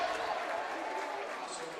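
A packed gym crowd at a Fort Collins vs Fossil Ridge varsity boys basketball game roars and claps in a dense, loud wash, with a voice talking over it.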